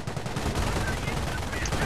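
An MG in a WWII real-time strategy game fires sustained rapid bursts, loud and dense across the whole short stretch, with a faint voice underneath.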